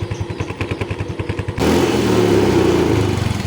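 A Yamaha Mio i 125 scooter engine putters at a steady idle with a rapid pulsing rhythm, then the revs jump into a louder, rougher drone that holds.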